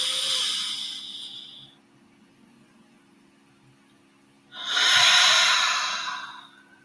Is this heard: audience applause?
no